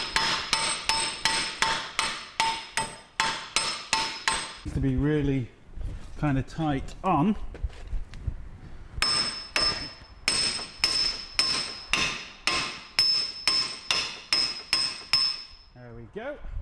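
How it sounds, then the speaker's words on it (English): Hammer blows strike a worn wheel bearing hub on a 2003 Mini, a steady run of sharp metallic whacks in two bursts, close and loud, with someone speaking briefly in between. "I'm going to get the hammer,"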